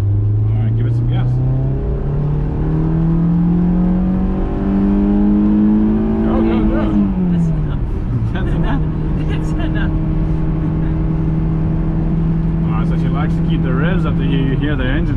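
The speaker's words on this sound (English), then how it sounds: "Hear the engine nice, but she's not too comfortable with the VTEC yet." Honda S2000 engine climbing through the revs toward VTEC, a strong rising drone that dips briefly mid-clip before holding steady again, heard from inside the car, loud and continuous.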